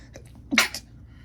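A single close, sharp sneeze bursts out after a brief quiet intake and is followed by silence.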